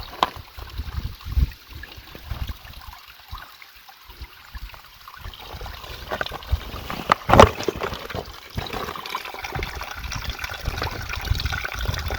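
Clear creek water runs steadily at Narrows Creek in Fiordland, a soft continuous wash close by with a few brief louder splashes and no talking.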